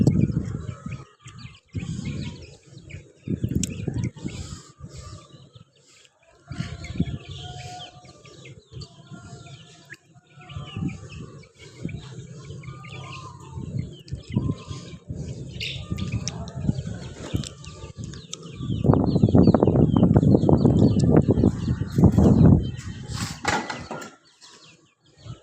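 In a backyard, a hen and her baby chicks give soft intermittent chirps and clucks, with louder bird calls building near the end. People speak at times throughout.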